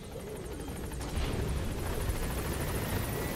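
Helicopter rotor in Metal Gear Solid V: The Phantom Pain, a steady low thumping whir that holds throughout and grows slightly louder partway through, with no talk over it.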